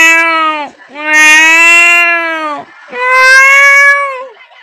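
A person imitates a cat meowing with its tail caught in a door. The voice gives three loud, drawn-out, wailing yowls close to the microphone, with brief pauses between them.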